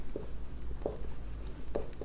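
Pen scratching on paper while a math problem is worked out, a few short separate strokes at about even intervals, close and quiet against a steady low hum with no talk.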